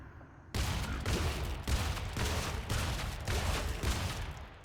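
The HRG weapon in Killing Floor 2 fires a rapid series of loud gunshots, roughly ten evenly spaced blasts in a steady rhythm, with no talk.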